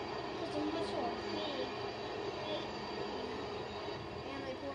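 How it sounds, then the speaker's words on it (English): A Canadian National tanker train rolls past in a continuous rumbling, rattling roar that stays steady and fairly loud throughout, with wheel and car noise filling the whole stretch. "Canadian National actually sends some pretty good trains."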